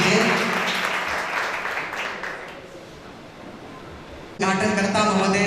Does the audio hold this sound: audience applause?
yes